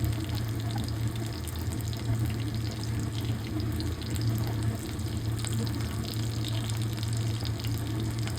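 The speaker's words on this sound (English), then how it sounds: "Hear these sizzling sounds fills the air as these light and fluffy chicken bites dance in my frying pan." Chicken bites in light, fluffy batter fry in a pan, giving a steady, dense sizzle that stays fairly loud and even throughout, with no talking.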